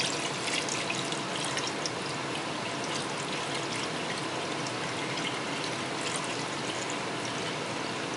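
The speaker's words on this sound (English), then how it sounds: "So, you're supposed to fill it up with water." Water is poured steadily into a brine shrimp hatchery, a continuous, fairly quiet splashing hiss with no speech.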